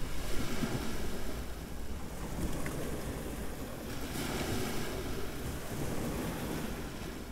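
Sea waves on a gently sloping beach near Hua Hin, Thailand, a steady low wash of surf with wind buffeting the microphone throughout and no voices.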